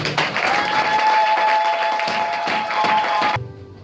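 Church congregation applauding together, a dense, steady burst of clapping that carries on for about three seconds and then stops abruptly.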